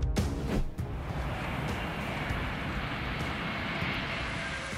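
An Airbus A400M military cargo aircraft gives a loud, steady engine roar that fills the whole clip, with a brief louder swell at the start and no talking.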